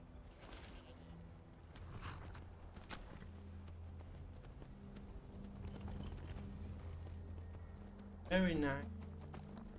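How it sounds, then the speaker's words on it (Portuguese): Hooves clip-clop steadily from a horse in the Skyrim video game, moderately close, while someone talks over the footfalls and a brief voice line is heard near the end. "O cavalo tá aqui."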